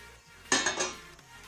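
Fried semolina tipped into melted ghee in a pan for suji halwa, giving a short burst of scraping and clattering against the metal, loud for under a second before settling into a low hum.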